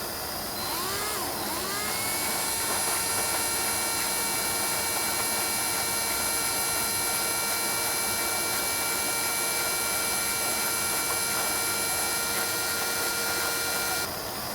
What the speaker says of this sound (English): chuck the whole thing up in my drill and spin it and heat it with a torch